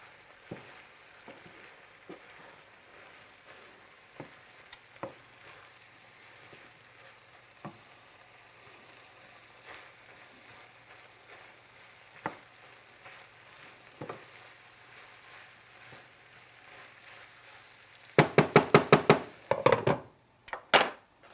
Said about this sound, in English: So now lid on. We're gonna let that simmer for a little bit